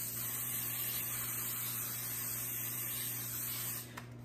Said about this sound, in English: I'm just gonna spray it with cooking spray